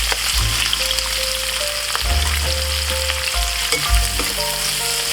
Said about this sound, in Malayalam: ഇപ്പോൾ ആ വറുത്ത ഓയിലിൽ തന്നെ കുറച്ച് ഞാൻ എടുത്തിട്ടുണ്ട്. അതിലേക്ക് നമുക്ക് ക്യാപ്സിക്കം പച്ചമുളക് ഇടാം.